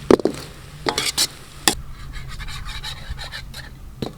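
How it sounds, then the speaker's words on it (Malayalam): A utensil scrapes and knocks against a pan as chopped carrot, cabbage and capsicum are tossed together, producing irregular close clacks and rustles over a faint background hiss. "ഇനി നമുക്ക് ഇതൊന്ന് മിക്സ് ചെയ്യാം മൊത്തത്തിൽ."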